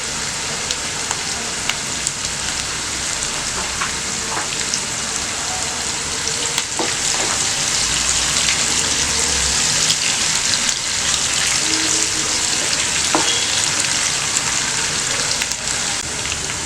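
Onions, salt and green chillies for minced mutton biryani fry in a pan with a steady, close hiss and crackle, occasional spoon clicks, and no talking.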